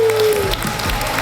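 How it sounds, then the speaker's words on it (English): Brief burst of audience applause at a startup pitch competition grand final, celebrating Matt and Team FlowStep; a short, loud wash of clapping and crowd noise, with a brief tonal hum at the start. "Big applause to Matt and Team FlowStep."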